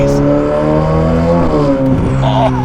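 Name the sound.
decat sports car engine revving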